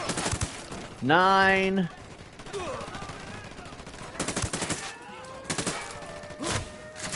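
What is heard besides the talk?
gunfire from the video game Ghost Recon Wildlands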